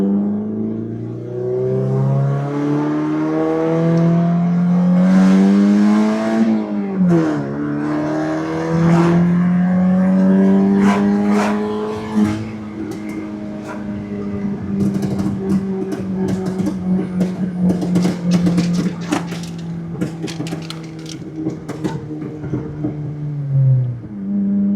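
A car pulls hard from first into second gear: a loud, close engine drone climbs steadily in pitch, drops briefly at the shift, then winds up again through a long sustained pull with some crackling.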